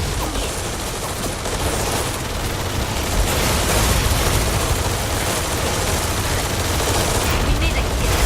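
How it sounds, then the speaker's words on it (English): Sustained gunfire and rapid machine-gun bursts from combat units in the video game Tom Clancy's EndWar, dense and continuous over a steady rumble of battle, loud throughout with a voice faintly present. "We are opening fire at hostile."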